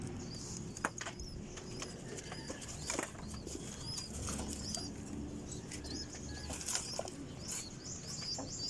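Pigeons in a cage at feeding time, with repeated bursts of wing flapping and scuffling against a steady background, plus faint chirps, all moderately close and continuous with no talk.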